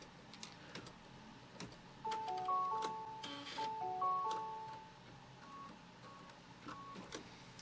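A home embroidery machine stitching a quilt block in the hoop, with a quiet rapid ticking and whirring of the needle, a short run of electronic tones partway through, and soft clicks, close and low in level.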